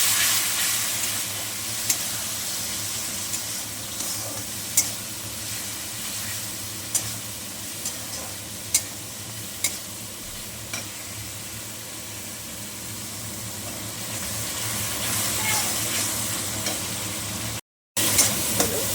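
Spice paste being fried with pabda fish in a pan, a steady close sizzle with soft stirring scrapes and occasional pops.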